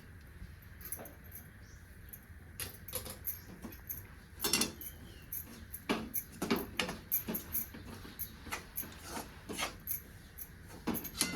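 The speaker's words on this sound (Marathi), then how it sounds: "थोडस जायफळ किसून घेणार आहे" Nutmeg being grated for sweet modak filling, a soft repeated rasping scrape in irregular strokes, faint and close, with a low steady background hum.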